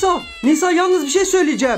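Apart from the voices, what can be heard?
cat meowing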